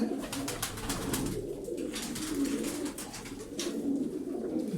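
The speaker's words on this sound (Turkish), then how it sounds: "20 tane dumanlı kuş ayırdım size." Smoky tumbler pigeons coo in repeated low, throaty murmurs, several birds overlapping at close range, with scattered soft rustles and chirps behind them and no talk.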